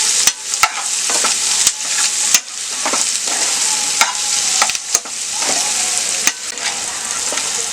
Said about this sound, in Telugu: ఎండుమిరపకాయలు ఉల్లిపాయ మాత్రమే వేయించుకున్నాం